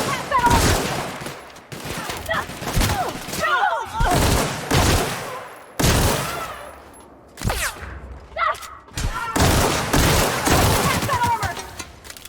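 Gunfire from a weapon in The Outer Worlds, fought against marauders: repeated loud bursts of shots in quick clusters, with short pauses between volleys, close and punchy.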